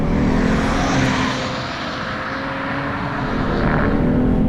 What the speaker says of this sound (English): You can really kick the crap out of this engine.